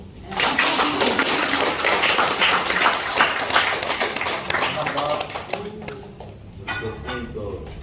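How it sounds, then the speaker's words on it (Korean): Brisk, steady clapping by several hands fills most of the stretch, mixed with clatter and voices, then thins toward the end. "박수"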